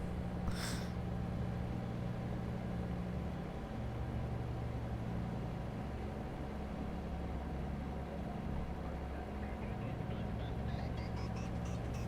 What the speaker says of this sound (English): This moderate hill is, causing my truck to struggle.